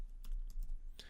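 Computer keyboard typing while entering code for an Android app, a few quick clusters of keystrokes, close and fairly clear with no talking.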